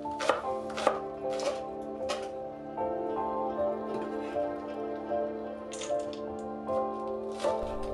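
Spring onion being sliced into rounds on a board for a meat dumpling filling, a few sharp knife taps at the start and again near the end over steady background noise.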